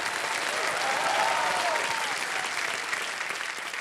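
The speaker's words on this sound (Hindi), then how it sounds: "एक बार फिर जोरदार तालियां बज जाएं इनके लिए।" A studio audience at the KBC quiz show applauds the contestants with steady, dense clapping that holds loud and even throughout.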